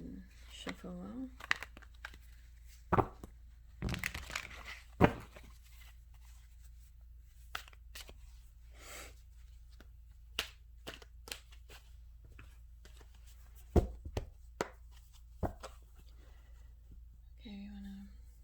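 Tarot cards being shuffled and handled, giving soft papery riffles, flicks and crinkles in scattered bursts with quiet gaps, close and fairly faint, with brief speech at the start and end.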